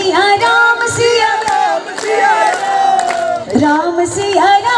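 A crowd at a Hanuman Janmotsav gathering sings a Ram Siya bhajan loudly together, with sustained voices and scattered claps keeping time close by.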